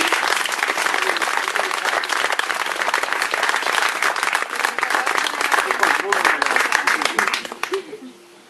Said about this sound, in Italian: Un applauso per gli scultori sardi